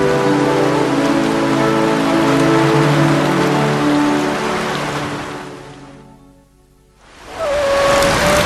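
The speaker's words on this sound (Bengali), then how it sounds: "যেইভাবে বৃষ্টি হইতাছে মনে হয় এইবারও বন্যা হইব" Heavy rain pours in a Bangla cartoon scene: a loud, dense, steady downpour that thins out briefly near the end before surging back at full strength.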